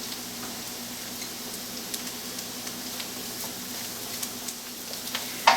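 Garlic and shallots sizzle in a hot pan with a steady, soft crackle and occasional faint ticks, heard close and alone without any talking.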